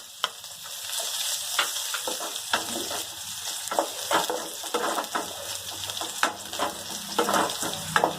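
Steady sizzling and crackling of garlic frying in hot oil, with occasional scraping stirs, close and fairly loud, no voices.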